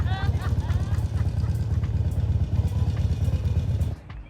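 A motorcycle rumbles steadily and fairly close as it arrives at a campsite, a low throbbing engine note running continuously under voices before cutting off abruptly near the end.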